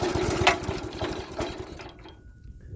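A Honda GX200 engine on a mini go-kart idles low with a fast, steady chugging putter, then cuts off abruptly near the end, leaving faint background noise and no talking.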